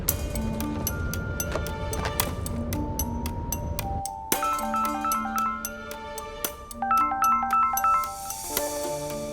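A phone ringtone plays a bright, looping electronic melody of chiming tones, loud and close, shifting patterns partway through without any talking.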